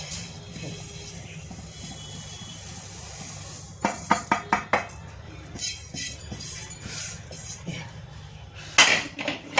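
Roasted sesame seeds are mixed into a laddu mixture in a pan: quiet at first, then irregular bursts of a spoon clinking and scraping against metal, close by with no talking.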